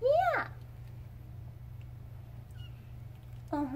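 Cats meowing indoors, a rising and falling meow at the start and another short meow near the end, close and clear over a low steady hum.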